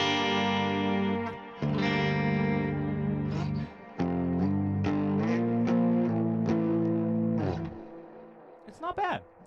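A Cort KX500FF electric guitar on a clean tone rings out in a series of sustained chords and notes, some held long, others plucked in quick succession, fading at the end.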